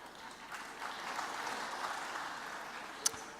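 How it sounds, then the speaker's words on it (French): A lecture audience clapping, a steady patter of applause at moderate distance, with one sharper clap standing out near the end. "Je crois que ça mérite totalement vos applaudissements."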